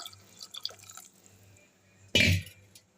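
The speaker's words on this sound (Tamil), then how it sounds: "இப்போ இந்த சுண்டல் தண்ணி அதில் ஊற்றிடலாம்" Chickpea cooking water is poured into a pan while making hotel-style chana masala, a single short, loud splashing burst that rises suddenly from a quiet kitchen background and fades within half a second.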